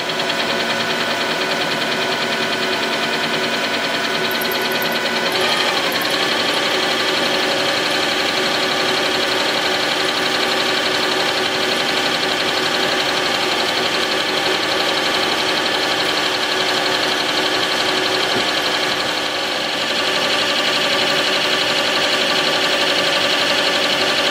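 A Mikron F75 milling machine cuts with the power feed engaged, giving a loud, steady mechanical whine and hum with layered tones that hold evenly throughout, plus a faint squeal around five seconds.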